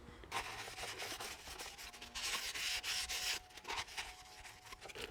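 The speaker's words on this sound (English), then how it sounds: "Then we just want to wipe out that section where the bush was." A rag wipes out the bushing bore of a Toyota Land Cruiser swivel hub spindle, giving close, quiet rubbing strokes in uneven bursts with brief pauses between them.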